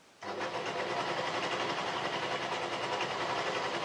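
A serger sewing machine stitches a T-shirt hoodie seam with a steady, loud, fast mechanical whirr that starts abruptly and runs continuously without a break.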